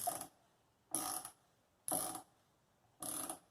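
A ratchet wrench tightens bolts on a bored throttle body fitted to a 2.4L Dodge Dart, heard as four evenly spaced bursts of rapid clicking about a second apart, close and clear with no talk.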